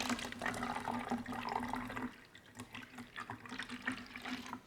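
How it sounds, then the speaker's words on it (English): Vinegar poured through a funnel into a transparent bottle, a steady gurgling stream for about two seconds, then softer intermittent splashes and drips as the pour tapers off, with no talking. "I'm going to pour this vinegar into the bottle."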